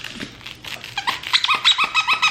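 Grinch plush dog toy being squeezed, a series of sharp, close squeaks that grow louder and come faster toward the end.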